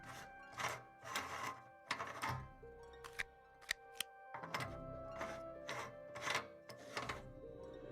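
Batteries being loaded into a device in the Nancy Drew: Ghost Dogs of Moon Lake video game, a series of faint clicks, thunks and short plastic rattles in an irregular rhythm with no speech.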